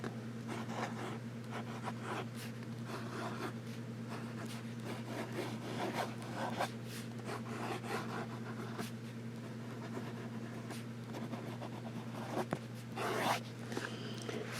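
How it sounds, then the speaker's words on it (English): A Visconti Homo Sapiens fountain pen scratches quickly across paper in fast, continuous strokes with short bursts, close and fairly quiet over a steady low electrical hum. "Now we'll do some fast writing."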